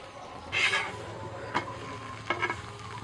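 Tawa tandoori roti brushed with butter frying on a hot griddle, with a short burst of sizzling scrape near the start and a few quieter clinks and shuffles afterward, alone without talk.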